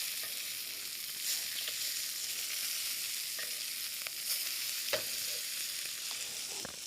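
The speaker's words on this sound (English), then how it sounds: "I'm going to keep basting my pork loin here" Pork loin sizzles steadily in a hot pan while being basted with herbs and garlic, a continuous frying hiss with occasional small pops and spoon clinks.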